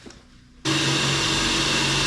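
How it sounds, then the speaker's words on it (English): A power drill abruptly starts up after a quiet moment and keeps whirring steadily at close range, drilling into a 1947 Plymouth P15 Special Deluxe with a seat moved aside. "and I can drill that"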